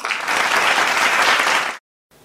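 Audience at a Tamil special speech event applauding to welcome a speaker, steady loud clapping for nearly two seconds that stops abruptly.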